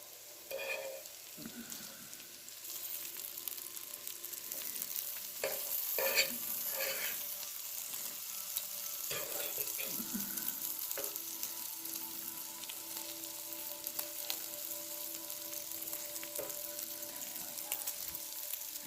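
Butcher Box bacon crackles and sizzles steadily in a hot pan, with occasional stirring scrapes and clinks over a constant frying hiss, no talking.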